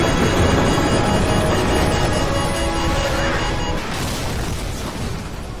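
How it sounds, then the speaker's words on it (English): A nuclear explosion in Call of Duty: Modern Warfare, a huge, loud, continuous roaring rumble that fills the space and then slowly eases off. "Kena serangan nuklir satu kota."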